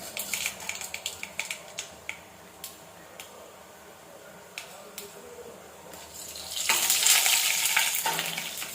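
Mustard seeds, chana dal and urad dal crackling in hot oil for a sambar tempering, with scattered sharp pops early on building into a louder, steady sizzle toward the end, close by.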